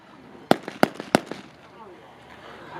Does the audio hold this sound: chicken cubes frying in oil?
no